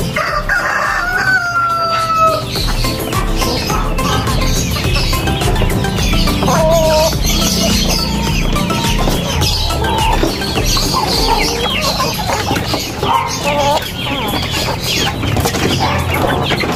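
Backyard chickens being fed in the late afternoon, roosters crowing repeatedly over steady clucking and flapping, close and loud throughout with no talking.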